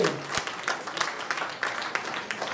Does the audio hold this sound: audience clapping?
yes